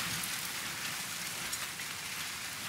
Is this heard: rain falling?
yes